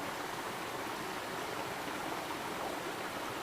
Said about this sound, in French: la cascade derrière moi